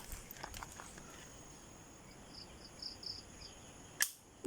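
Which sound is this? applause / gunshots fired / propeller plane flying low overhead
gunshots fired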